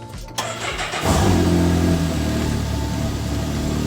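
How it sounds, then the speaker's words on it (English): A 2025 Can-Am Maverick X3 with aftermarket upgrades cranks and starts within about a second. It then settles into a steady, loud, throaty idle close by, with no talking. "I can show you guys a start up here."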